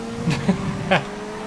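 A drift car's engine in GTA FiveM holds a steady, moderately loud drone, with a few short surges rising above it during a brief moment of racing.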